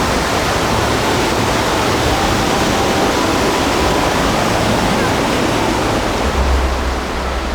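A rushing river roars in a steady, loud, unbroken wash of white water close by, continuing unchanged for the whole stretch with no voices over it.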